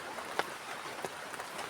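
Rain falls in a forest at night as a steady soft hiss, with a few sharper drips and taps close by and no voices.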